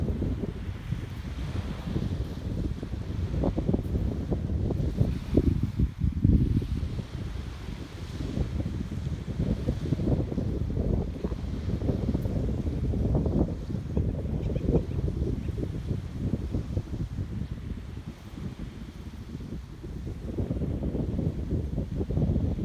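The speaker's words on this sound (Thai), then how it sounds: "นี่ล่ะค่ะบรรยากาศของชายฝั่งกับน้ำทะเล" Wind and surf along a seashore where sailboats are pulled up and parked on the beach, a steady broadband rush of wind noise and waves, fairly faint and continuous with no voices.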